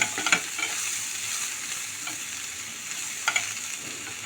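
Capsicum and eggplant fry in a pan with a steady, fairly quiet sizzle, and a few sharp scrapes and clinks from stirring stand out briefly.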